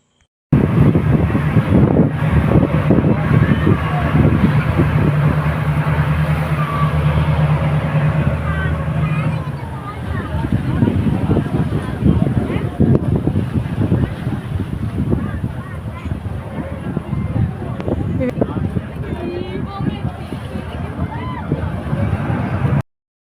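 A boat ride out to the rock at Kanyakumari: a boat engine drones under wind buffeting and water sloshing against the hull, with people chattering aboard throughout.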